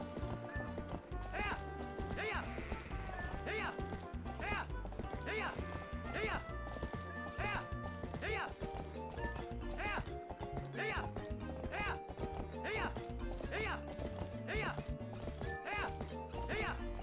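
Horse galloping in the video game Zelda Twilight Princess, a rapid rhythmic clip-clop of hooves running continuously over a game soundtrack.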